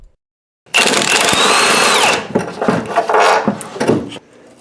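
A power tool works loose the last steering box bolt on a third-generation Camaro/Firebird: one loud, sustained whirring burst after a moment of silence, then choppier, stuttering bursts before it stops.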